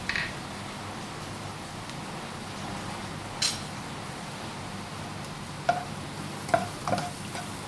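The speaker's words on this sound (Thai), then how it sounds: "ผัดกระเทียมให้หอมกันนะคะ" Soft, steady sizzle of garlic stir-frying in a hot pan, with a few sharp clicks and taps of a utensil against the pan near the end.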